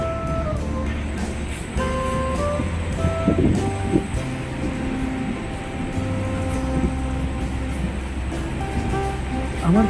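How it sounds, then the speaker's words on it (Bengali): Darjeeling Mail passenger train pulling into Jalpaiguri station, a steady low rumble of wheels and carriages with station noise, moderately loud and close throughout. "ট্রেনটি এখন পৌঁছালো জলপাইগুড়ি"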